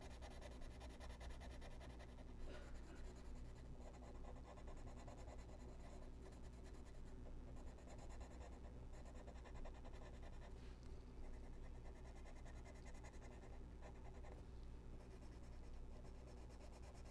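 A colored pencil scraping steadily across paper, a continuous close, dry scratching that keeps up without pause for the whole stretch.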